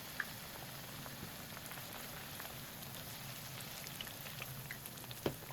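Eggplant slices fry in moderately hot oil, a steady soft crackle like light rain spread evenly throughout, with a couple of sharper pops standing out, fairly quiet and close.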